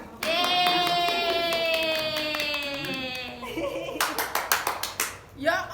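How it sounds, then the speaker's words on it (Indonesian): Schoolchildren in a classroom burst into a short round of clapping after a sustained sung or chanted tone, with scattered sharp claps fading out near the end. "Tepuk tangan."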